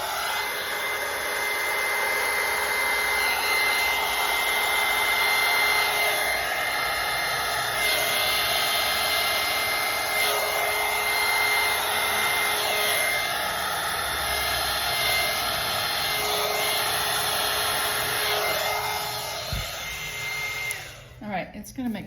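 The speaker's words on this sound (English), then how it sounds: "maybe I'll use the heat gun a little bit to see what I can do with that." A heat gun blows over acrylic paint poured onto a cardboard box, producing a loud, steady whirring roar with a whiny tone that holds for about twenty seconds before cutting off.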